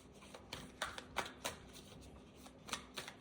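Tarot cards shuffled by hand in a quiet room, a run of crisp riffling bursts and soft slaps at an irregular pace, close and fairly faint, with no voice over them.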